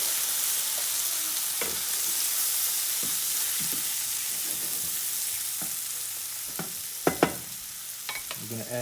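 Mushrooms sizzle and fry steadily in a pan with Worcestershire sauce, a constant hiss broken by several sharp scrapes and clinks of stirring, loudest near the end.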